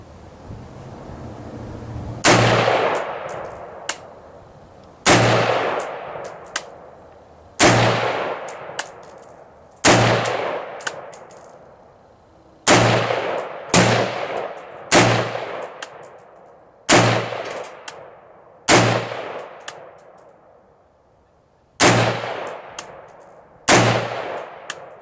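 An AR-15 rifle fires about a dozen sharp shots at an outdoor range with 50-grain V-Max bullets, each crack ringing and decaying, spaced a second or two apart and sometimes doubled.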